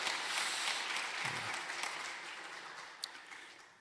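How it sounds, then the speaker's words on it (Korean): Church congregation clapping during a Wednesday worship service, a broad sustained applause that starts full and gradually thins out, with one sharp louder clap standing out near the end. "박수로 격려하도록 하겠습니다"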